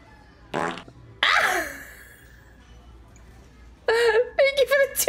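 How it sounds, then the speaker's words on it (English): Several fart sounds come in short bursts, one drawn-out and squeaky, then a rapid cluster of sputtering blasts near the end, loud and close, with quiet gaps between. "They're not mega farts."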